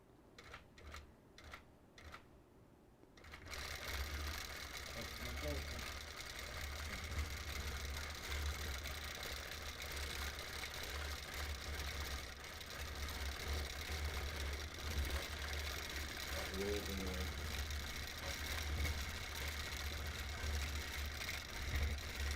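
A sewing machine doing free motion quilting on a mountain-themed custom quilt runs in a steady, continuous mechanical hum with fine rapid stitching texture, close and moderately loud, after a few brief clicks and taps at the start.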